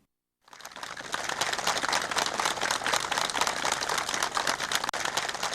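Enthusiastic applause at a meeting where housing use permits are handed out, a crowd clapping loudly and steadily in a dense, sustained wash without pause.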